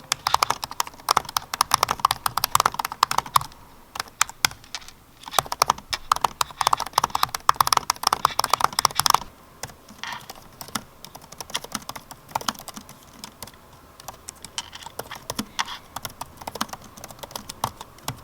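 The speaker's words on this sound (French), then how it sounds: "Au niveau des claviers, on va tester la frappe" Rapid typing on a MacBook Pro 16-inch laptop keyboard, dense clattering keystrokes in bursts with brief pauses, then lighter, sparser tapping for the second half, close and alone without speech.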